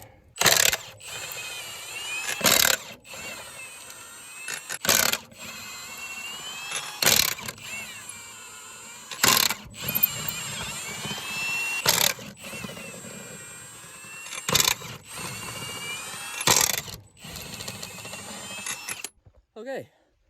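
Tools removing lug nuts from a farm truck tire, with repeated loud bursts of impact-wrench rattling at regular intervals over outdoor engine hum and occasional talk.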